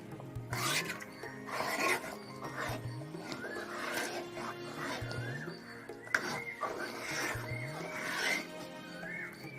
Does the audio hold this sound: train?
no